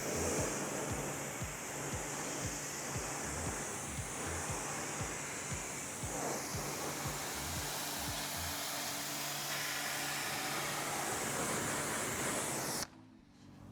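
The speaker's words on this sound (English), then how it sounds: "first we're going to give the wheels and wheel wells a thorough rinse" A pressure washer rinses car wheels and wheel wells, giving a loud, continuous hissing spray that holds steady for several seconds and then cuts off abruptly near the end.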